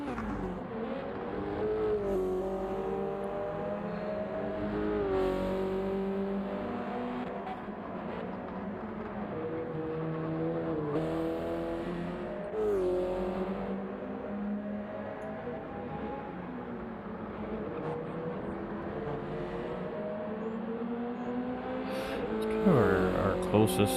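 Subaru BRZ race cars in a racing video game: engines whine and rise and fall in pitch through gear changes, running continuously under steady spoken commentary.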